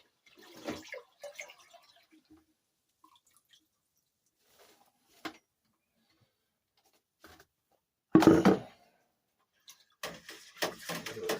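Honey splashes and gurgles as it pours into homemade wine in a container in a few short bursts, separated by quiet pauses.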